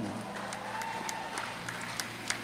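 Church congregation clapping during a sermon, a light, diffuse patter of hands from a sizable crowd, distant and low in level, with a few sharper individual claps near the end.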